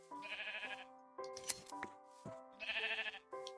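Blocky Minecraft sheep bleat several times in a row, clear wavering game-sound cries spaced about a second apart, close and fairly quiet.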